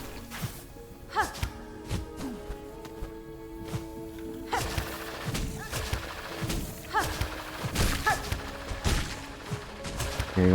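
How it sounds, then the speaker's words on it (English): Video game explosions in Hollow Knight: Silksong, a string of short thuds and crashes scattered over steady tonal game music, loudest near the end. "Hearing all these explosions is pretty funny."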